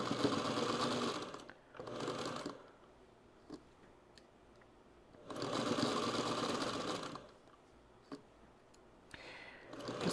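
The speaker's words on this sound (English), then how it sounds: "When the pin gets underneath the front of my presser foot, but not at the needle, I pull the pin out and I hold the next seam." Sewing machine stitching small quilting fabric pieces runs in three bursts of rapid, even mechanical whirring, separated by quiet pauses with faint clicks and handling noises, close and moderately loud.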